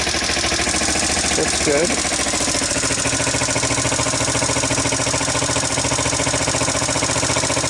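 A Sunl 110ST ATV engine idles steadily and close by with an even, throbbing rumble throughout, while someone briefly speaks over it.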